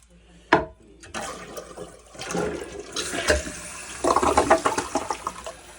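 A Kohler toilet with a faulty canister flushes nearby: a sharp clunk of the handle, then rushing, gurgling water that swells and bubbles, close and fairly loud, with brief faint voice in the background.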